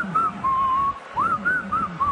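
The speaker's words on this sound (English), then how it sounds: "I feel like whistling a little tune." A person whistles a little tune before a wrestling crowd, a clear, wavering melody of short sustained notes with a brief pause near the middle, heard up close over faint room noise.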